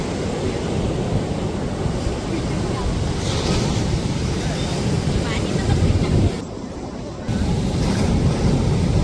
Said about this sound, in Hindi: ये देखिए सामने चंद्रभागा बीच।